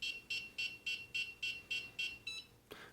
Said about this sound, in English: You're going to hear that beeping